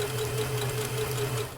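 A sewing machine stitches fabric close by, a quick, even mechanical hum with steady rapid needle chatter running without pause.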